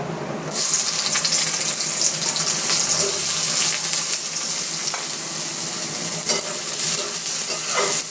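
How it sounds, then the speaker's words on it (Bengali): Onions drop into hot oil for Bengali-style chicken kosha, and a loud, bright sizzle bursts in after a brief quiet moment, then holds steady and dense with faint stirring scrapes. "পেঁয়াজগুলো ভালো করে একটু ভেজে"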